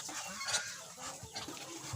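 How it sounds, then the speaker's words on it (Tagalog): Geese honking on a rural farm in San Felipe, Naga, Camarines Sur, several harsh nasal calls scattered over the stretch, fairly close and moderately loud against outdoor background noise. "Yan gansa."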